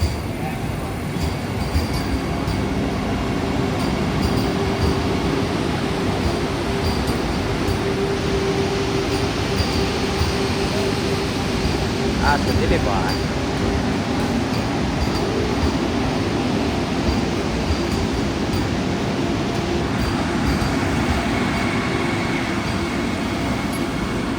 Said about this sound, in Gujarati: આ છે કઈ ટ્રેન મેટ્રો